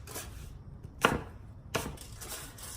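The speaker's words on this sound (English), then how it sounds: "So I have some beautiful Honeycrisp apples that I am just chopping." Cored Honeycrisp apples are chopped with a knife on a cutting board, giving a few distinct, sharp chops spaced irregularly, close and clear over quiet background with no talking.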